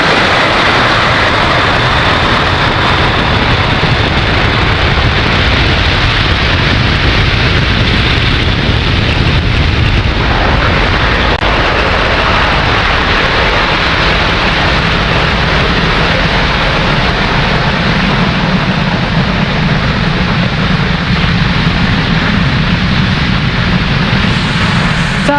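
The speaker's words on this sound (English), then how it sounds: "Falcon 9 has successfully lifted off from pad 40" Falcon 9 rocket lifts off from pad 40 on the Euclid launch, its sustained, loud, broadband roar and low rumble filling the whole stretch without pause, easing slightly in the later part.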